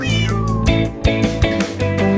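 A cat meowing in a French children's nursery song, several drawn-out meows in quick succession over a musical backing, loud and close.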